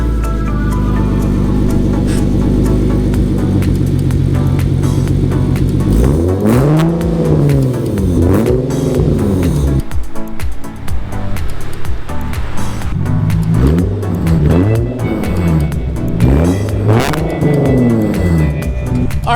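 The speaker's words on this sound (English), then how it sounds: "Let's get this cold start ready for you guys" A car engine idles after a cold start with a deep exhaust rumble, then is revved hard several times, each rev swelling and falling back, loud and close.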